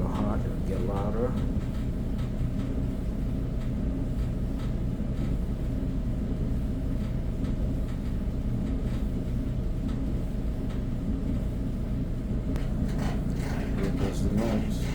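A Whirlpool clothes dryer with a cracked blower wheel runs with a continuous low rumbling drone and faint rattling throughout, a voice talking over it in places.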